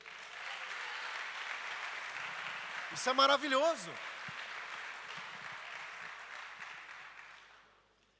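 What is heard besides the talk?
church congregation applauding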